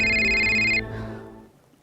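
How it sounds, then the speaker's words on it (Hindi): A phone ringtone plays loud and close as a client calls, its bright electronic tones ringing steadily for under a second before cutting off and fading into room reverb. "लो, क्लाइंट का फोन है"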